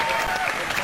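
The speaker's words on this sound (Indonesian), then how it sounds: "Boleh tepuk tangan buat Kak Aditya Gumai." An audience applauds a guest being introduced, a brief, steady patter of many hands clapping at moderate volume with no voices on top.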